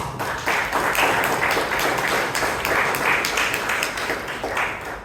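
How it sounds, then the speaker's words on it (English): Audience at a Toastmasters club meeting in Bangalore claps steadily and loudly for several seconds, a dense, continuous round of applause with no voices standing out. "Shouldn't we deserve another big round of applause?"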